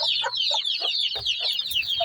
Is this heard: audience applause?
no